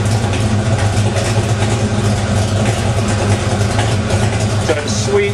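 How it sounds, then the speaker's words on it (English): A 1968 truck with dual exhaust idles with a deep, throaty rumble, running steady and close by. "Has a nice throaty sound to it. The dual exhaust really looks sweet on this"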